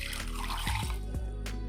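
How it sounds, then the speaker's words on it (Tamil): A tumbler of water pours into a mixer jar of chopped cluster beans for a juice, a steady close trickle with a few gurgling splashes. "ஒரு டம்ளர் தண்ணி ஆட் பண்ணிக்கோங்க."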